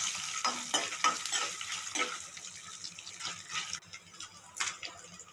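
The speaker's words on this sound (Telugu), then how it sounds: "కొంచెం ఒక స్పూన్ జీలకర్ర, కొంచెం ఫ్రై అయ్యాక ఎండుమిర్చి ఒక 15 అలా ఎండుమిర్చి" Cumin seeds and dried red chillies fry in oil for ginger chutney, a soft crackling sizzle broken by scraping stirs of a spoon in the pan, fairly quiet and close.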